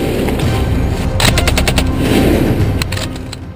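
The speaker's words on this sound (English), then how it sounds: "Machine gunners play a crucial role in this tactic by laying down a constant stream of bullets" A machine gun fires rapid bursts at close range, loud and sustained, and the rattling shots run into one another.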